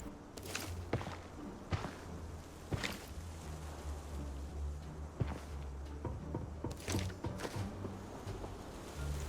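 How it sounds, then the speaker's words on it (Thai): Footsteps in the shooter game Arena Breakout, heard behind the player as a scattered series of soft thuds and scuffs at uneven intervals, fairly faint over a low background hum. "มีเสียงเท้าด้านหลังครับ แต่ว่าน่าจะเป็นบอทนะ"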